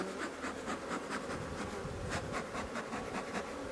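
Honeybees hum steadily in a continuous, faint drone around a hive during a summer honey harvest, with no voices over the buzzing.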